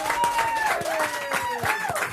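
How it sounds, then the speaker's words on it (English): A live audience applauds the contestants of a debate game, brisk clapping mixed with drawn-out vocal calls or whoops rising above it. "how about a round of applause for all our contestants here?"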